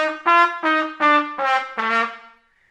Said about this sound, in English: The tongue is coming through the lips and stopping the lips from vibrating, and you get a very crass, harsh sound.